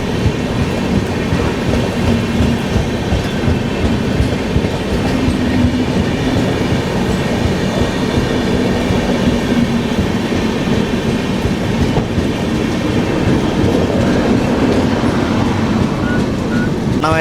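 Kakinada to Sainagar express train heard from inside a coach, a loud continuous rumble with rattling wheels and rhythmic clickety-clack on the rails, steady throughout with no talking.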